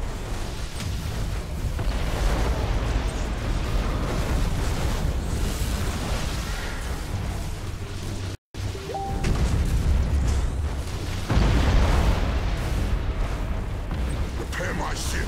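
Ship weapons unleashing volleys and explosions in the space battle game Battlefleet Gothic: Armada 2, a continuous heavy rumble of booms and blasts throughout, briefly cutting out midway, with speech over it.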